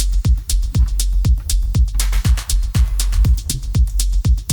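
A hypnotic techno drum loop built in Ableton pounds along with a deep kick, crisp hi-hats, a clap and a snare, in a loud, driving, evenly spaced groove with no talking.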